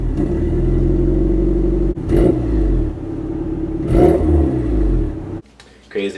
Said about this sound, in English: the external wastegate was actually stuck open and I thought there was an exhaust leak